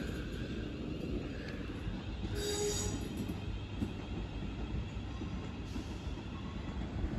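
A London Northwestern Railway train at Northampton rumbles past in a continuous heavy roll, with a brief high wheel squeal partway through.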